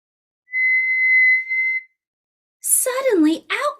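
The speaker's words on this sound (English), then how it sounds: "Suddenly, out came a real whistle." A single clear, steady whistle sounds for over a second and then briefly again, close and bright, followed by a voice speaking.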